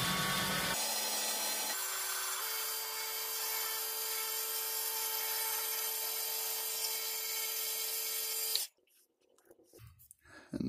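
An amboyna burl wood grenade spinning on a lathe while being trued up, giving a steady, loud whirring tool whine with a cutting tone that holds for about eight seconds before stopping abruptly, leaving near silence.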